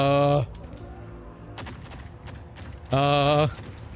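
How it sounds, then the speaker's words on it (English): Gunfire in the video game Forever Winter: scattered sharp shots and impacts crack between two loud, droning, tonal blasts, with a voice briefly heard. "is that shooting at me?"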